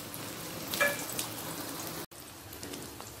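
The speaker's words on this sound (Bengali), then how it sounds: "কড়াতে যে তেল আছে ওই তেলেতেই আমি আলুটাকে ভেজে নেব।" Potato pieces fry in oil in a kadai with a dense, close crackling sizzle, a brief sharper flare near the start and a momentary cut partway through.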